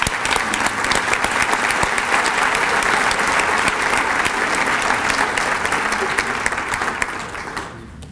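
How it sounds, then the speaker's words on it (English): Sustained, dense applause from a large audience at a school district employees of the year celebration, honoring middle school classified staff; steady and loud for about seven seconds before tapering off at the end. "let's give the middle school classified employees a round of applause again"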